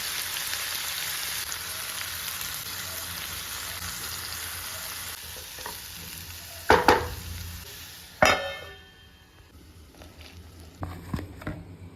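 White eggplant frying in a pan makes a continuous soft sizzle and patter, broken by a few sharp stirring clacks, before fading to a quieter crackle.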